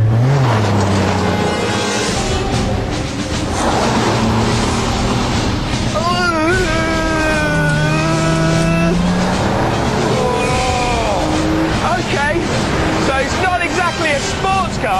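An Alfa Romeo Spider sports car is driven hard, its engine revving up and down through gear changes with wind and road noise, while someone talks over it throughout.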